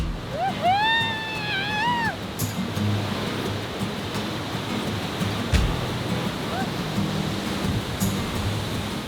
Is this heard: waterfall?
yes